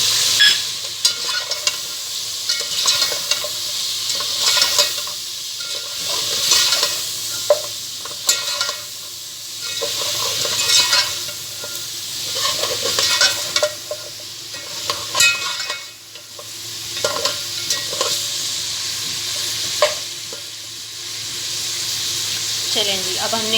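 Mutton korma frying in a pot as spices go in, a steady sizzle with repeated scraping and stirring strokes at close range, with no talk.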